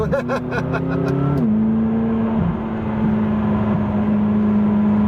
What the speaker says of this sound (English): this is my first drive in my new to me McLaren 570s